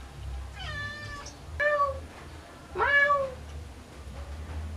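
A person imitates a cat with a voice, giving three or four drawn-out, pitch-bending meows over a low background hum.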